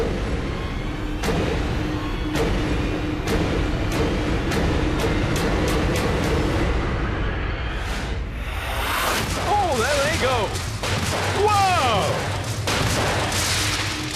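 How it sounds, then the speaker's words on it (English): A run of sharp staccato bangs and booms from a Saturday night TV game show, heard as loud repeated blasts over a busy noisy backdrop, followed by crashing, whooshing effects with rising and falling tones. "let's watch some stuff exploding"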